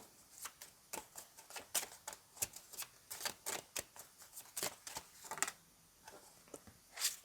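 Cards are shuffled in quick, crisp riffling bursts, close and fairly quiet, with a soft pause near the end.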